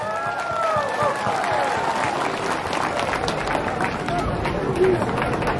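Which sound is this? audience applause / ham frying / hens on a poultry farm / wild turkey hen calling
audience applause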